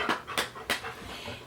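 A black dog with an orange collar pants close by in quick, breathy rhythmic puffs, soft and alone with no voices.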